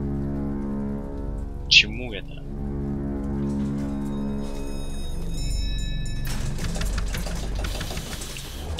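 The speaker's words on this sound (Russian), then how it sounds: "Но дождь красивый." Rain falls steadily in the video game BioShock Infinite, a constant soft patter beneath a low droning hum, with a brief voice and a sharp chirp partway through.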